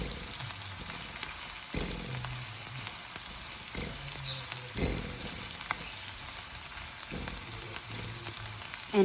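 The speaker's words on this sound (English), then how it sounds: "Once your pork is golden brown in color, then you can add up your onion, give it a little stir, and then you can add up your garlic," Pork with onion and garlic sizzles steadily in a pan, with a few soft scrapes from stirring now and then; close and fairly quiet, with no talking.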